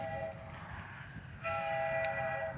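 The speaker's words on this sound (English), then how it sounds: "Oh, I hear that train a-coming." A steady rumbling train with a sustained horn or whistle tone rising partway through, fairly loud and continuous.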